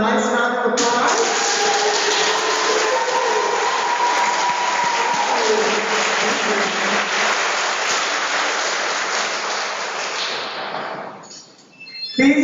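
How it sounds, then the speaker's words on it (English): An audience at a pre-law program graduation ceremony applauds the graduates, a dense sustained clapping that fills the room for about eleven seconds before tapering off. "let's give them a nice round of applause."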